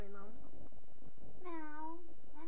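A voice imitates a cat, giving two drawn-out, high, wavering meows close to the mic, with quieter vocal sounds before and between them.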